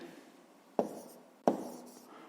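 A pen or pencil writes down a fifth-grade maths solution on paper, with two short scratchy strokes, each starting with a sharp tap on the page and trailing off quietly, close up and with no talking.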